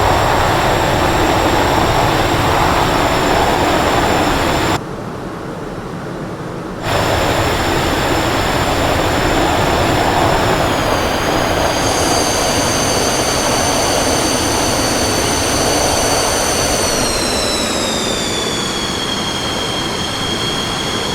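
An SU-27 Flanker jet in MSFS 2020 comes in to land, a loud steady engine roar with high whining tones that dip briefly and then slide gradually lower as the throttle eases, with no talking.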